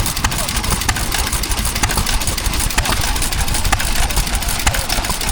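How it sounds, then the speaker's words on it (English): Amanco 2.5 horsepower stationary engine chugging steadily at an outdoor steam and craft fair, a continuous rhythmic running sound amid general show-ground noise. "this engine here is an Amanco"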